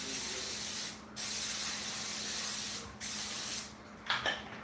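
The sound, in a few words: olive oil cooking spray sprayed into cake pan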